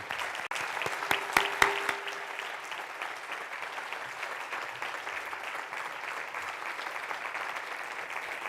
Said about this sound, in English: A big round of applause for them for making this event happen.